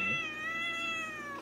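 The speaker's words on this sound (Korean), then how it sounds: "고양이 찍어야지." A cat gives one long, drawn-out meow, loud and close, with a strained caterwauling quality as it is petted indoors.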